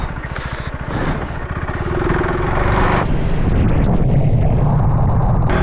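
A KTM 390 Adventure R revs hard off-road as its rear wheel spins up in dirt, the single-cylinder engine climbing into a loud, sustained, close roar with a rapid pulsing throb.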